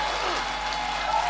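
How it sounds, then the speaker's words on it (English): A church congregation claps along, a brief, steady patter of many hands with voices mixed in underneath. "Somebody clap your hands to Jesus."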